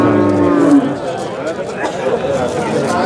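Cattle at a livestock market in Qumtepa, one loud close moo at the start over a murmur of nearby voices and crowd noise.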